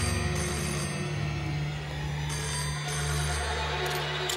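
Telephone ringing in a Hindi-dubbed children's movie scene, a steady repeating ring at moderate loudness over a dense music-like backdrop, with no one speaking.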